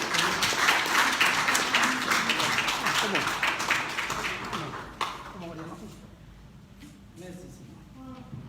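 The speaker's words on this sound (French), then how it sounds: "On les applaudit." Applause from an audience at a bilingual gathering with translation, steady loud clapping for about five seconds that fades out, then quiet room tone with a person speaking.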